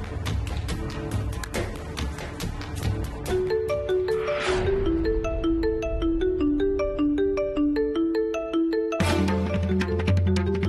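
A mobile phone call's ringback or ringtone melody plays as a steady repeating electronic tune of short tonal notes under dramatic background music, with a brief swell midway and the music surging again near the end.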